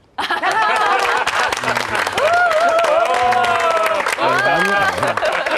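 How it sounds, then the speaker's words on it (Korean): Dense, continuous applause from an audience fills the space at a lecture, loud and sustained, with sung or held vocal tones weaving over the clapping throughout. "박수 한번 드려"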